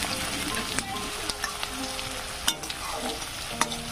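Chopped onion, garlic and one or two bay leaves fry in mustard oil for a pork curry, making a close, steady sizzle punctuated by sharp clacks and scrapes from stirring.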